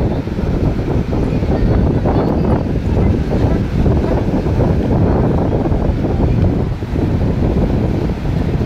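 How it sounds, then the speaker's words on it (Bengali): Strong seaside wind buffets the microphone in a continuous loud, low roar, with waves faintly beneath it and no talking. "দারুণ হাওয়া"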